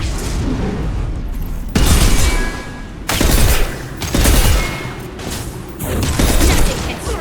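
Concussive shot gunfire in the Mass Effect 2 Legendary Edition video game, heavy booming bursts of shots and impacts recurring several times over a constant roar of battle noise.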